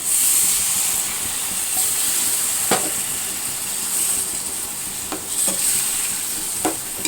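Tamarind water is poured into a hot pan of bitter gourd curry, which hisses and sizzles steadily, with a few sharp clinks and scrapes of a utensil scattered through.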